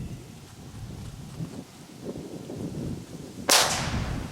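A Hestia Super Piccolo firecracker goes off with one sharp, loud bang near the end, after several seconds of steady wind rumble outdoors.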